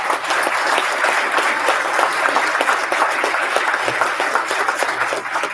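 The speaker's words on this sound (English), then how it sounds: "One more round of applause." Applause from an audience at a graduation ceremony, a loud sustained wash of many hands clapping without a break.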